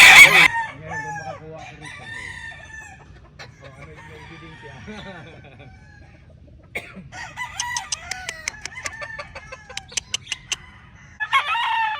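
On a farm, a rooster crows loudly near the start, followed by ongoing chicken clucks and rapid repeated calls, with people talking quietly in the background.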